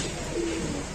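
A single short, soft coo from a large pigeon at a pigeon sale, faint against a hissy background with no speech.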